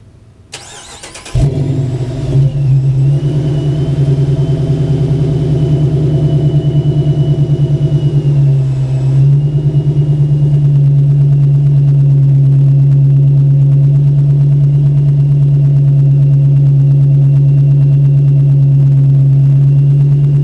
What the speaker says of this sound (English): Take one last listen to the car on its stock cam.